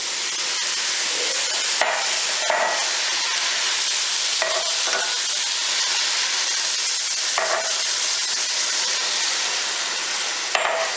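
Chili with yellow tomatoes simmering in a pot, a steady sizzling hiss broken by occasional scraping stirs of a spoon against the pot, close and continuous.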